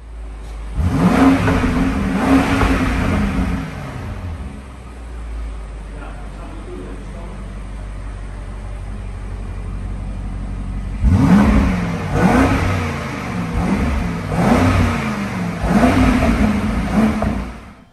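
Alpina XB7 petrol SUV, a 2021 BMW-based model with its engine revving near and loud in two bursts of rising and falling revs, with a steadier idle hum between them.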